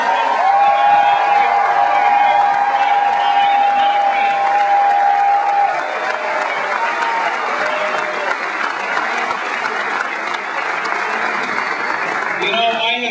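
An overflow crowd in a hallway at a political rally for Obama applauds and cheers steadily, a dense, loud wash of clapping and shouts sustained throughout, with a long whistle or whoop early on.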